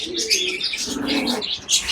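A flock of white crested pigeons coos and chirps up close, soft rolling calls overlapping one another with a brief flutter of wings, and no voices.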